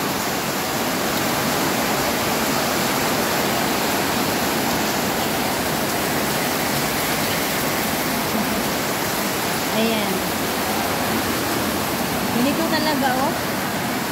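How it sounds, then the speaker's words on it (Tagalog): Rain pours onto a house and drips through its leaking roof as a dense, unbroken rushing hiss, with a voice speaking briefly over it. "Kasi tumutulo talagang ulan dyan,"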